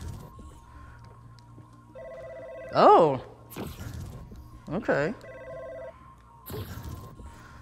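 An electronic telephone ring sounds in the VR game Budget Cuts, repeating steady tonal bursts with a pause between them, while someone talks briefly and other game sounds chime and warble over a low hum.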